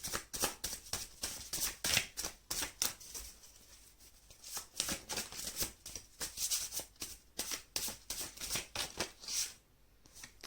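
Tarot cards shuffled and drawn, a rapid run of crisp riffling flicks and slaps close up, in bursts with brief pauses, heard alone.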